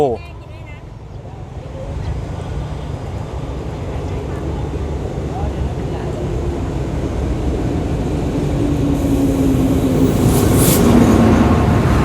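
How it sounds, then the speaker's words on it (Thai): A passenger train, ordinary service 258, rumbles into Wang Pho station in Sai Yok, Kanchanaburi, its low drone building steadily and growing louder, with a brief squeal near the end and someone talking over it. "ตอนนี้ขบวนรถธรรมดาที่ 258 ต้นทางสถานีน้ำตกปลายทางสถานีธนบุรีนะครับ กำลังจะเข้าจอดสถานีวังโพ"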